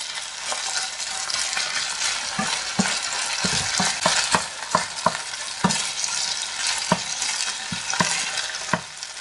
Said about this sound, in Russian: Так, жарим примерно 10 минут. Обжариваем.